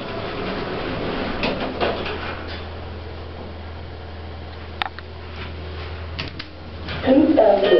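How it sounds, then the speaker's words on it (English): Lift doors in London slide shut with a soft mechanical rumble and a few clunks and ticks under a steady hum, ending in a louder thud as they meet. "Please stand clear, the doors are closing."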